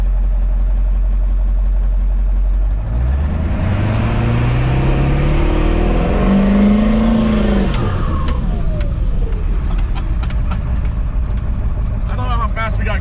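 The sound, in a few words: Powerstroke diesel Ford Bronco launching, spinning tires in dirt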